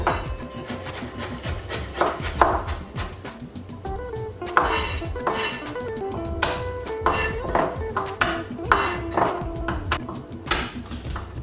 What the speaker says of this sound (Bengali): আদাকে এভাবে একটা চামচ দিয়ে ছিলিয়ে নেব